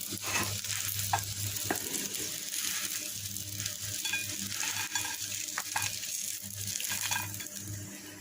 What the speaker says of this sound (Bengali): তারপরে সরিষার তেল দিয়ে এইভাবে আস্তে আস্তে জালে ভেজে নিয়েছি অল্প অল্প করে।